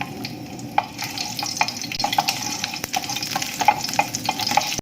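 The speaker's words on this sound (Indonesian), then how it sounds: "Sekarang kita akan menumis kentang ini ya, dan wortelnya. Tumis bawang putihnya." Garlic, potatoes and carrots sautéing in a pan, a steady close sizzle with frequent scraping stirs and clinks of a utensil against the pan, no voices.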